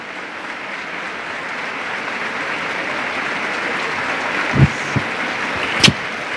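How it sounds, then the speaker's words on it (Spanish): Loud, sustained applause from the audience at an international education congress in Tucumán after a speaker's talk, a dense even roar of clapping with a couple of sharper knocks near the end. "Fuerte, fuerte los aplausos."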